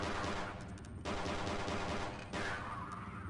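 SMG fire in the Half-Life mod No Hope, a sustained loud burst of rapid automatic shots with a brief break and then more continuous firing, close and with no voices.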